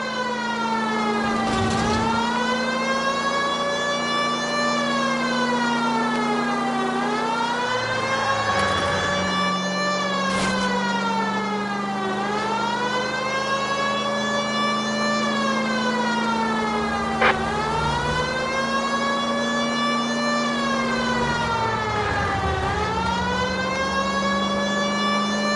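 A wailing police car siren from the video game L.A. Noire rises and falls in long repeating sweeps, loud and close, over a low steady engine drone with no talking.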